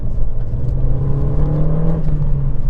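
Renault Mégane 2 RS, a 225 hp French hot hatch in stock condition, revving steadily with a low continuous engine drone and whirring overtones, moderately loud and close, with no talking.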